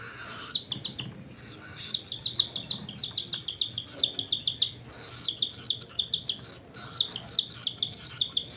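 A small bird chirps repeatedly in quick, bright bursts, a steady run of high tweets close by with brief pauses between clusters.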